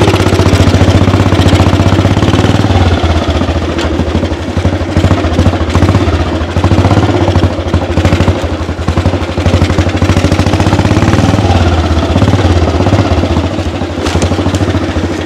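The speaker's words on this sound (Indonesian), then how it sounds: "Kita coba motor ini di jalan tanah." A 1948 AJS 500 custom motorcycle engine runs steadily on a dirt road, its loud, continuous low thumping rumble holding close with little change in pace and no talk over it.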